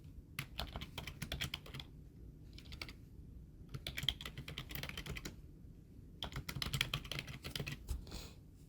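Rapid clicking keystrokes on a computer keyboard as a name is entered for an image, coming in several quick bursts separated by short pauses, close and fairly quiet with no voices.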